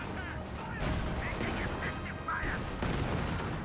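Short bursts of weapon fire from flame engineers in Company of Heroes 2, crackling and popping through a noisy battlefield mix with several distinct blasts, under a commentator's speech.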